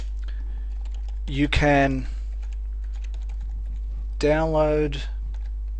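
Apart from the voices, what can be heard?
typing a message on a computer keyboard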